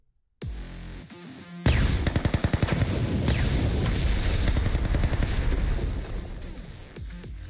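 Dense gunfire from a Blue Archive video game battle: a sharp opening burst followed by rapid automatic fire and heavy shots layered together, loud and continuous for several seconds with no talk.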